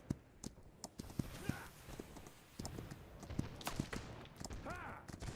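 Horse hooves clip-clop in the video game Holdfast, set in the American Revolution, as a quiet series of irregular thuds with distant gunfire cracks and a faint whinny near the end.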